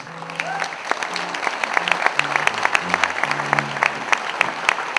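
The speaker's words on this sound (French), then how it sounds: "On va vous demander déjà pour commencer d'arrêter d'applaudir" An audience at an evening show about birds of prey claps steadily and loudly, with sharp individual claps standing out, while low voices and tones murmur beneath the applause.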